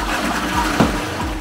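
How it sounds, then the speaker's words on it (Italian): A toilet cistern flushes in a remote mountain cabin, a short gush of water with a brief sharper surge in the middle, close and alone. "Una è la vaschetta del WC"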